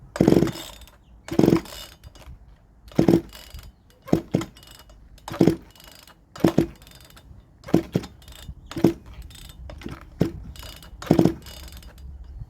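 Someone tries to start an Italian-made Alpina A-40E chainsaw that has not run in years, and a series of about ten sharp ratcheting pull-cord yanks comes at roughly one-second intervals without the engine catching.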